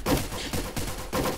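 Sniper rifle shots in a multiplayer video game, three loud, close blasts at roughly half-second intervals, each with a short rumbling tail, heard alone.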